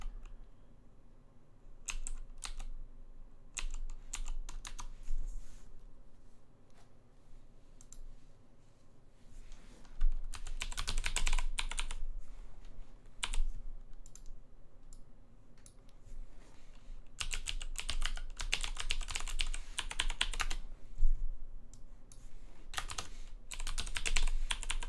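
Steady typing on a computer keyboard while a password is entered: rapid, irregular key clicks close up, busier in bursts toward the middle and end, with no talk.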